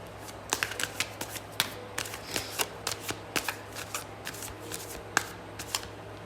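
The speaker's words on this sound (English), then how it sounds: "Let's get your tarot cards here." Tarot cards being shuffled by hand, a close run of crisp riffling flicks and soft slaps in an irregular rhythm over a low steady hum, with nobody speaking.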